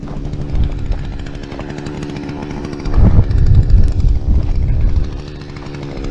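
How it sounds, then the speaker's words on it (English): A loud, steady engine drone with a rough mechanical chatter as an auger drills into hard ground, rising into heavier grinding bursts midway as the bit bites in, then easing off. "this little auger is definitely helping them out"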